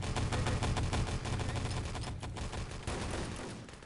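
Dense rifle and automatic gunfire in the multiplayer shooter Enemy Territory: Legacy during a competitive team match, rapid overlapping shots forming a loud, continuous fusillade with a brief dip midway.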